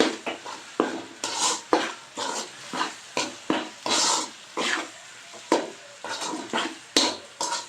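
Ground masala is worked into capsicum curry in a pan, with rhythmic scraping and clinking strokes of a spoon against metal repeating every half second or so over a faint sizzle.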